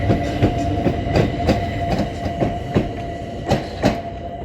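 A battery-only train runs along a quiet London railway with a steady rolling rumble and regular clickety-clack beats from the wheels over rail joints, loud and close, with no voices.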